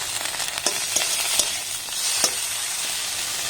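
Grated ginger sizzles steadily in hot oil in a frying pan, with a few brief scrapes of stirring rising above the continuous hiss; no voices.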